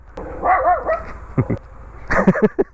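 A pet dog barks and yips nearby in short irregular bursts, with whimpering tones between the louder barks.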